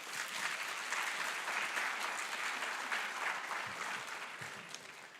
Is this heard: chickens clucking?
no